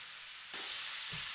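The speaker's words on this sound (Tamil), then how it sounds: "இதெல்லாம் சேர்த்து கொஞ்ச நேரம் நல்லா வதக்கிடுங்க." Onions with ginger garlic paste sautéing in a pan for an egg gravy, a quiet sizzle that suddenly grows louder and brighter partway through, with a soft stirring scrape near the end.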